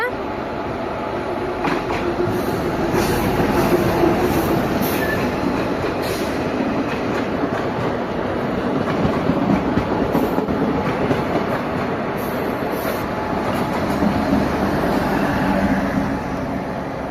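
A train rolls past steadily for the whole stretch, a continuous rumble with rhythmic wheel clatter and faint squeals, while an adult's voice calls out to a child now and then over the noise.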